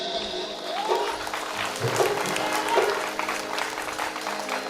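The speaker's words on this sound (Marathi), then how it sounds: "टाळ्या तर झाल्याच पाहिजे." Audience clapping at a live comedy-style stage show, a steady broad wash of applause running through the whole stretch, with faint crowd murmur beneath.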